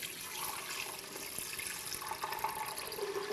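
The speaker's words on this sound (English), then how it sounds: "Here, we're going to pour that in the Vitamix." Coconut water streams from a container into a Vitamix blender jar, a soft continuous splashing pour at low level with no talking.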